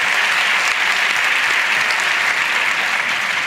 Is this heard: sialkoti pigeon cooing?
no